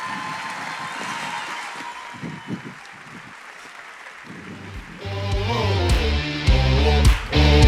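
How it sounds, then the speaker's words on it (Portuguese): An audience claps to welcome speaker Paulo Moreira onto the stage at the DDC Samsys 2023 event. The steady applause lasts several seconds before loud walk-on music swells in. "Um forte aplauso para o Paulo."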